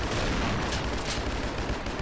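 Gunfire in the video game Double Action Boogaloo: a dense, continuous wash of rapid shots and noisy blasts with no clear gaps, loud and close throughout.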